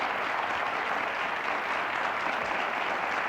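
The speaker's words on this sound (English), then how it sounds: "Please give them a round of applause." Studio audience at a daytime talk show about couples applauding steadily, a dense, even wash of clapping held at constant loudness throughout.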